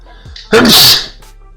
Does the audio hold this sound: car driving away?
no